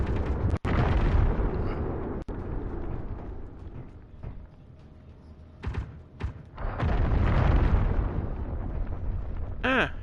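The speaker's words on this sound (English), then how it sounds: "Ah, you are shooting the rocks." Rocks being shot and blown apart in the underground survival game Helios: heavy booming explosions with rumbling tails, separated by sharp cracks and a quieter stretch, followed by a final loud sustained blast.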